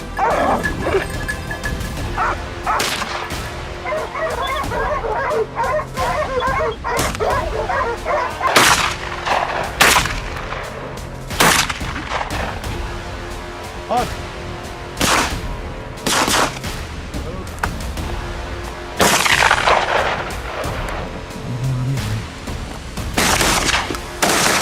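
Gunfire at wild boars during a hunt in a German pine forest, several sharp, loud shots spaced irregularly among dogs barking, yipping and whimpering close by throughout.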